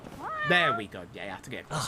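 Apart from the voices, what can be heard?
cat meowing in a video game (Judgment)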